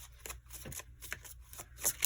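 Cards are shuffled in a quick riffle, a soft flurry of flicks and taps close by, faint and brief with no talking.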